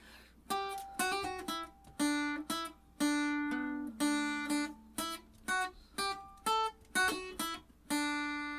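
A plucked guitar line in even, straight rhythm, clean separate notes with short gaps, played alone at moderate volume.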